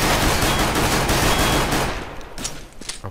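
Rapid pistol shots in Counter-Strike: Global Offensive crack in a loud, dense burst, then taper into a few sharper separate reports as the firing thins out.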